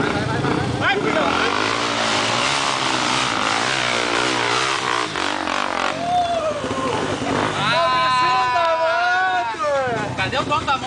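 A motorcycle engine revs and strains on a hill trail, rising and falling loudly under excited shouting and talk from several people nearby.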